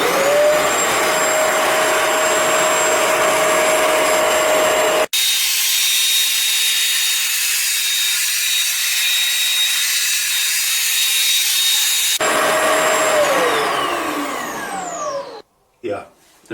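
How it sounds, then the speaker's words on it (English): A Bissell ProHeat Revolution Pet Pro carpet cleaner runs dry passes with a loud, steady motor whine. There is a brief cut partway through, where the pitch shifts, and then the motor winds down near the end. "now I'm going to release this grey button and do the dry passes"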